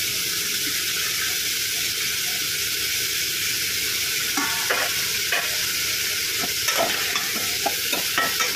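Turmeric and peas added to a frying pav bhaji mixture in a pan, a loud continuous sizzle with scattered stirring scrapes and spatters toward the end.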